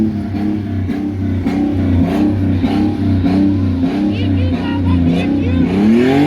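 A turbocharged VQ-engined Nissan Skyline pulls away up close, its engine note rising and falling steadily as it drives off, with some voices faintly underneath.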